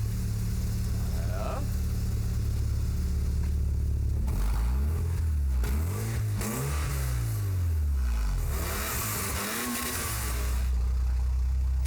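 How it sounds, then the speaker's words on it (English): A Porsche 911 Carrera RS race car engine revs up and down in strong sweeps, rising and falling pitch several times, loud and close over a rumbling idle. "The Porsche rebuild is started like a real race car and also sounds like it."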